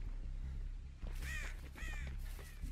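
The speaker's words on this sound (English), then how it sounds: "Fucking crows, go away." Crows caw in a video game: two drawn-out, harsh caws ring out close by over a low, steady background hum.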